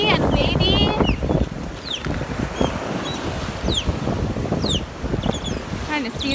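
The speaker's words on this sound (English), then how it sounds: "Ooh, it is windy out here." Gusty wind buffeting the microphone by the sea after a storm, a heavy low rumble throughout with chirping birds calling faintly overhead and a voice speaking briefly.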